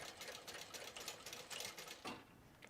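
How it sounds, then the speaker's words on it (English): A Juki DU1181N industrial sewing machine runs in a steady, close, fairly loud stitching burst of rapid needle strokes with a short slowdown near the end. "Now I am using an industrial machine. This is the Juki"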